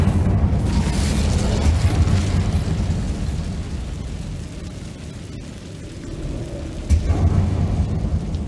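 Incendio fire spell cast inside a dark mine in Hogwarts Legacy, a loud, sustained rumbling roar of flame with a heavy boom near the end, no speech.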